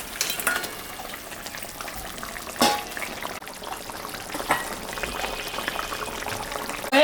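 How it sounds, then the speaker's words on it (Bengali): Pieces of fish go into a pot of boiling Bengali fish curry, making a brief splash and sizzle over a continuous bubbling, frying hiss in a home kitchen. "ঝোলটা ফুটে গেছে, আমি এখন মাছটা দিয়ে দেব।"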